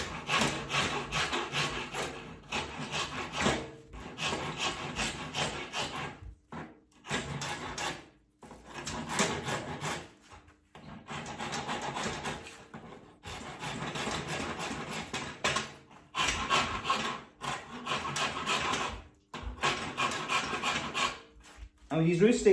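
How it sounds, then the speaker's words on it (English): A rasp works the edges of a wooden Irish root stick in steady rhythmic strokes, dry scraping bursts broken by short pauses, close and clear with no talk. "So I'm going to rasp these two edges here as well."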